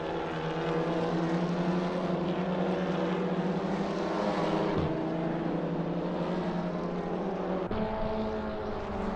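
Racing cars in a sim racing touring car series on the Barbagallo circuit roar down a downhill back straight, a sustained loud, steady engine drone with gear-shift drops around the middle and near the end.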